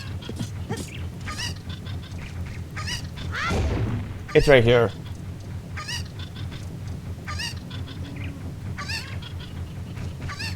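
Cuckoo chickens in Zelda: Ocarina of Time's Kakariko Village give a sharp, honking cluck twice near the middle, loud and close, while someone talks throughout.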